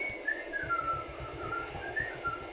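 A person whistles a short wavering tune over a steady low rhythmic background from a football video game.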